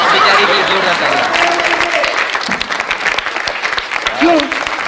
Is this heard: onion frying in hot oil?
no